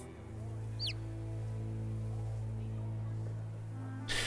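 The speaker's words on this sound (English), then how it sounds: "I haven't even noticed the chirping until you mentioned it. Now it's I hear it every single time." A chicken in the video game Divinity: Original Sin II gives one quick, high, falling chirp over a steady low game hum and background music.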